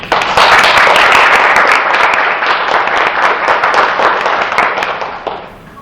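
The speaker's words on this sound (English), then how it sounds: "you should all give yourselves a big round of applause" Loud, dense applause from an audience at an English presentation contest, crisp clapping sustained for several seconds before gradually thinning out and fading at the end.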